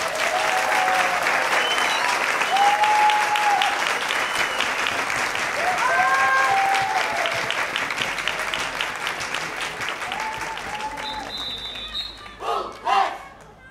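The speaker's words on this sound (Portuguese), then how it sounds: "Uma grande salva de palmas!" Audience at a band performance giving loud sustained applause with scattered shouts and cheers; the clapping fades toward the end into a few isolated claps.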